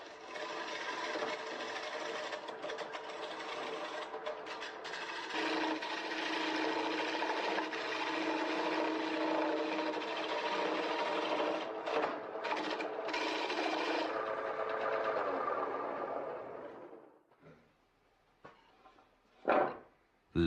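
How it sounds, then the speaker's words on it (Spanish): Wood being worked on a farmer's lathe, a steady broadband rasping and scraping that runs continuously for about seventeen seconds, then stops and leaves a few faint knocks and one brief louder scrape. "Cuando el granjero trabaja en el torno, el olor a madera fresca invade el ambiente."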